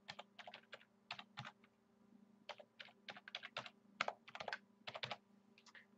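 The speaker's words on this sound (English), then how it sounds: "Type in your admin username and password." Soft keyboard clicks in irregular quick runs as someone types on a computer keyboard, faint and close over a low steady electrical hum, with no talking.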